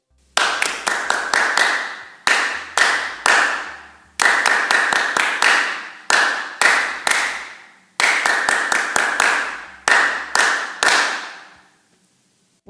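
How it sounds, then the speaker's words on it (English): A group claps the Agi Agi Agi rugby rhythm in loud, crisp unison, the same syncopated pattern of quick claps repeating three times before stopping. "Start by getting the group to clap the rugby rhythm, Agi Agi Agi, oi oi oi."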